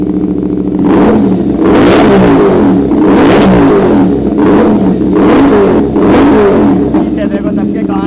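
A superbike with a full-system exhaust and the dB killer removed revs hard in a series of about five sharp, very loud blasts over a steady idle, close up, with voices talking beneath.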